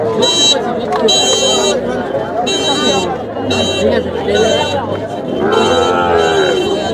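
Cattle, including Sahiwal and local Bangladeshi bulls, lowing at a busy Friday cattle market, with people talking and bargaining nearby throughout and repeated high tonal blasts cutting in.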